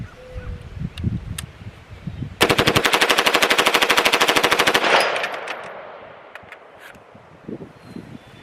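A rifle with a KAK Industry DBC bolt carrier group empties a full magazine in one rapid, evenly spaced automatic burst of loud, close shots lasting about two seconds, ringing out afterward among quieter ambient noise.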